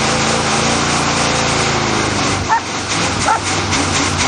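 A 1984 Chevrolet Camaro with a 305 V8, running for the first time after five years, revs loud and close with a steady rough roar that dips briefly twice.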